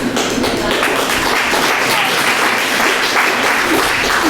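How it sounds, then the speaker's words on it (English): Loud, dense audience clapping at a talk with a babka baker, a continuous roar of applause at close range throughout. "Don't clap me."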